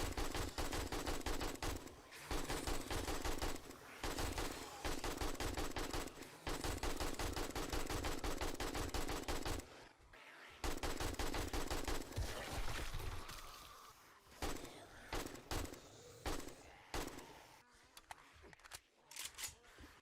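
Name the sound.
gunfire in the video game 7 Days To Die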